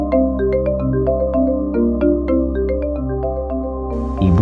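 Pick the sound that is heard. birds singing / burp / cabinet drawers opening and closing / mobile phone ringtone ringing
mobile phone ringtone ringing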